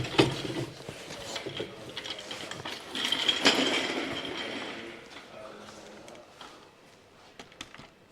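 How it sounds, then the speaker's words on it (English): A car jack is lowered under a Ford Transit Connect van after a rear shock absorber swap, giving a run of close mechanical ratcheting and clicking with a louder burst in the middle, while people talk over it. "We can let our jack down."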